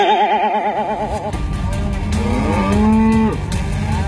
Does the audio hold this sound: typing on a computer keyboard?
no